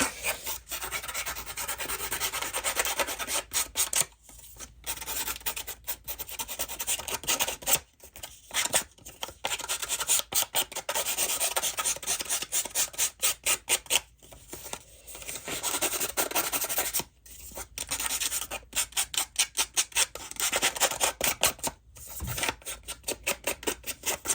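A journal cover is sanded by hand to rough it up, producing long stretches of dry, rasping scratchy strokes in steady back-and-forth rhythm, close and continuous with short breaks between passes, no talking.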